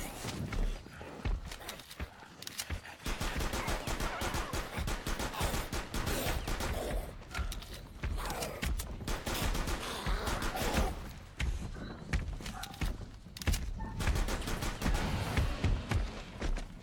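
Gunfire in Rainbow Six Siege, with dense, rapid shots and impacts that run continuously over busy game noise and faint footsteps, loud and sustained for the whole stretch.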